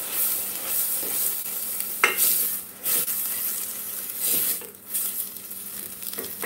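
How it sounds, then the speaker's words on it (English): Food for stewed potatoes sizzles steadily in a hot pan, with a few clinks and scrapes of a utensil stirring through the crackling. "So we're sizzling that."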